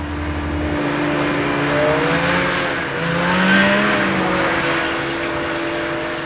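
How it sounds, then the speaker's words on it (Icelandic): Snowmobiles drive over sea ice near Ammassalik Island in East Greenland, giving a steady droning engine roar whose pitch rises and falls as the machines rev, with two louder surges midway and no voices. "í stað ljúfrar hundasleðaferðar standa snjósleða til reiðu"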